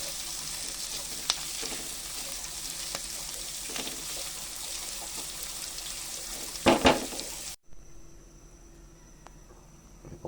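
Onion, garlic, carrot and ham sautéing in a pot, a steady soft sizzle with scattered clinks and a brief stirring scrape before it drops away to quiet.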